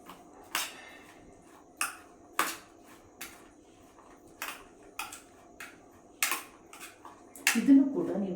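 A spoon stirs food with lemon juice in a bowl, giving a series of light, sharp clinks and scrapes spaced irregularly at moderate loudness, with no talking.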